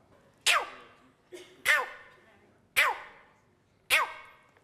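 A man vocally imitates a cheetah's call, four sharp chirping yelps at a steady rhythm, each bursting loud and trailing off quickly, close to the microphone and alone.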